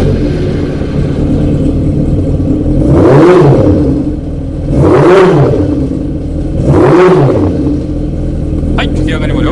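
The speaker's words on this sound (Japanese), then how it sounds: "エンジンの方を始動していきたいと思います" A Honda CB400 Four with an upright handlebar and a four-into-one collector exhaust idles steadily, then revs three times in even blips, each rising and falling back to a loud, close idle.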